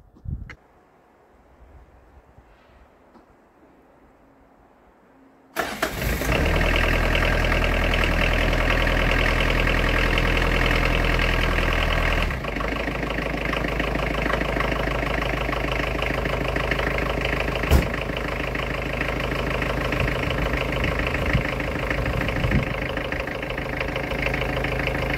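A Datsun 720 pickup engine cranks briefly and catches, then settles into a loud, steady, slightly knocking idle close by that keeps running throughout.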